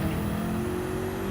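A race car engine in Gran Turismo 7 at Bathurst holds a steady high-revving drone, loud and close, with a thin whine riding above the constant engine note.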